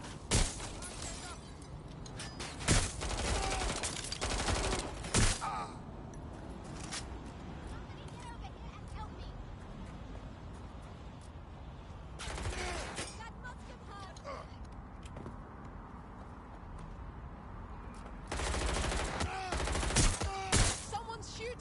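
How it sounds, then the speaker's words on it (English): Gunfire in the video game Watch Dogs Legion comes in several loud bursts of rapid shots separated by quieter stretches, with scattered single cracks and a rumbling background between them. "Someone's shooting!"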